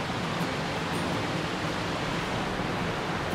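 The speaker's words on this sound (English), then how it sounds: "I'm just sitting at the waterfall here and Leah's getting some long exposure" A waterfall roars as a steady, dense broadband rush heard from close by, unchanging across the moment, with no talk over it.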